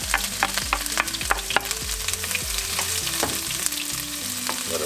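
Garlic and ginger frying in a pan for vegetarian patties, a steady loud sizzle with stirring scrapes and a soft tonal hum of music running underneath, no talking.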